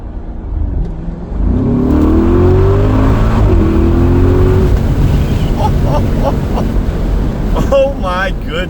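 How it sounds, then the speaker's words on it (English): A tuned Audi SQ7 SUV making almost 700 hp accelerates hard in second gear, with a loud, steady engine roar and rising tone that hold for most of the run under wind noise. A voice cuts in briefly near the end. "Should we do a little 2nd gear roll here?"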